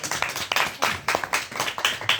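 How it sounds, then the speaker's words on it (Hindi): Clapping in welcome at a gathering, a short burst of fairly sparse, rhythmic handclaps from a small group, close and moderately loud. "साधु सभी तालियों से स्वागत करेंगे।"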